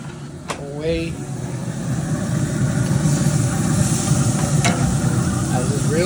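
Thin carne asada steak sizzling on a Pit Boss grill, a dense steady crackling hiss that builds slightly, with a few brief metallic clinks from handling early on.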